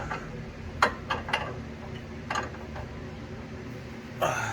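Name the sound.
size 17 wrench loosening sway bar link bolt on Honda Civic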